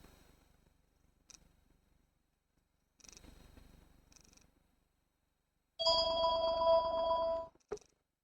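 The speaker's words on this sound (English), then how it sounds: "that was a phone ringing that I was not able to cut out completely" One burst of a telephone ringing, a bright tonal electronic ring lasting under two seconds and abruptly cut off, following quiet faint room noise.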